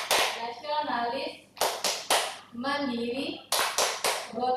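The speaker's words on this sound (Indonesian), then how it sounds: "anak-anak itu dibiasakan untuk melakukan tepuk PPK terlebih dahulu" Students at a vocational high school orientation perform the rhythmic tepuk PPK clapping chant, sharp bursts of group claps alternating with chanted words in a steady call-and-clap pattern, fairly close and clear.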